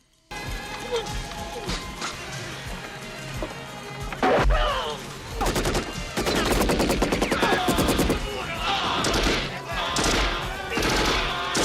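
Gunfire and explosions from an action film's battle scene: a dense mix of rapid automatic bursts, heavy blasts and crashes building into chaotic warfare, with a narrating voice running over part of it.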